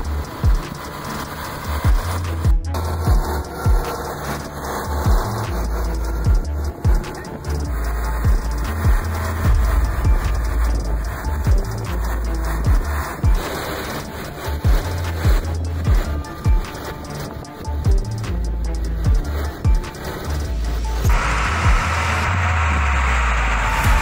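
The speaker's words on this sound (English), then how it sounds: "this Ural just powers through like it's on solid ground" A Ural heavy truck grinds through deep mud, its engine droning loudly and steadily with rhythmic surges and knocks as it powers ahead, no voices over it.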